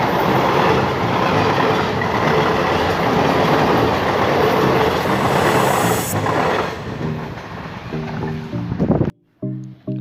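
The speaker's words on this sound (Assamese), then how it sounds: "আৰু ইয়াত ট্ৰেইন আহি আছে চাওক।" A train rumbles past on the tracks close by, seen from an overbridge, a loud continuous roar with rhythmic wheel clatter that fades toward the end before abruptly cutting off.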